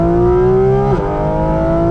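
Porsche Cayman GT4RS engine pulling hard on the Thermal Club track, a loud, steady, rising rev that dips briefly at a gear change, then climbs again.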